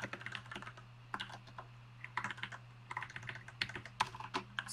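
Close keys clatter on a computer keyboard in short irregular bursts of typing, with pauses between, over a low steady hum in a quiet room.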